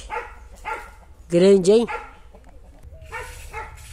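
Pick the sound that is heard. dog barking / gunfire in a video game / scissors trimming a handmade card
dog barking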